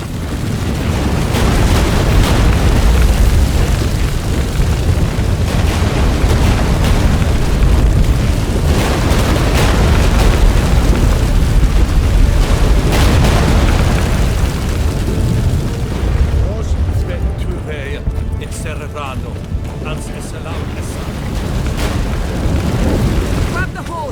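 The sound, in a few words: earthquake rumble in video game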